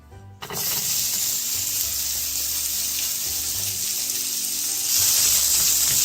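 Thinly sliced onions for a frittata hit a hot pan, bursting into a loud, steady sizzle after a brief quiet start and swelling a little louder near the end, with no talking.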